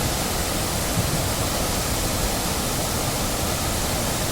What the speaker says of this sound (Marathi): आता पाऊस जास्त असल्यामुळे प्रवाह खूप जास्त आहे पाण्याचा.